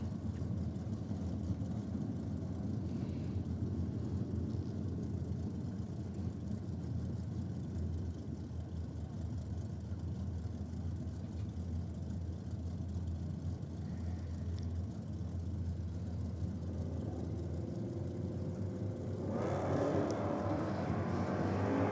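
HQ Ute and Chev Bel Air at a NSW championship drag race, a loud, continuous engine roar that holds steady and then swells sharply near the end, with no talk.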